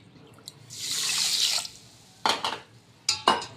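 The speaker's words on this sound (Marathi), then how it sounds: "याच वाटीने आता 1 वाटी मी पाणी घालणार आहे" A bowlful of water splashes into sugar in a kitchen, one steady pour lasting about a second, followed by a couple of short clinks and trickles from the bowl.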